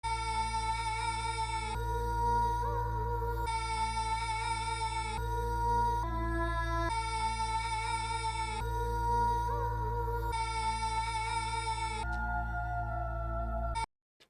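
An ethnic-style vocal sample melody chopped to fit a drill beat in FL Studio loops in repeating two-bar phrases, with sustained sung notes over a steady low bass bed, moderately loud, then cutting off abruptly at the end.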